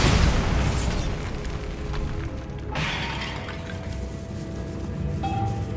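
The Bombarda explosion spell goes off in the Hogwarts Legacy video game, opening with a loud blast and crumbling debris that fades into a sustained rumbling roar.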